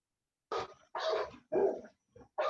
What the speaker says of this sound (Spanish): perdón si se escucha mi perrita